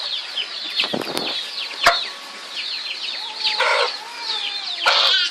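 Chickens cluck and squawk close by during a scuffle with a cat, with sharp bursts and a brief flutter of wings among steady clucking, and no talk.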